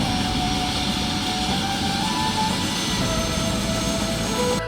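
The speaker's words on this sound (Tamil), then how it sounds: "திடீரென கேட்ட பயங்கர சத்தம் ஊருக்குள் வந்திறங்கிய ஹெலிகாப்டர்" A loud, steady roar of a helicopter landing in a town fills the whole stretch, droning on without pause and with no voices over it.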